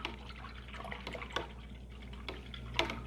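A paintbrush is swished and rinsed in a water cup during acrylic painting, giving soft, faint drips and splashes with a few brief sharper taps.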